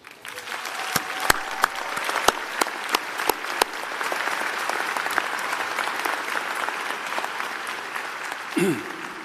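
At a college commencement ceremony, a few loud, separate claps ring out first, then the audience settles into a full, even round of applause, with a brief rising tone near the end.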